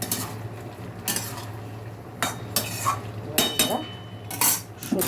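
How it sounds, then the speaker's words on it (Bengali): Vegetables with mustard-poppy paste being stirred in a pan, giving intermittent scraping and clinking strokes of a utensil against metal over a low simmering bed, with several distinct bursts spaced through the stretch. "নাড়াচাড়া দিয়ে"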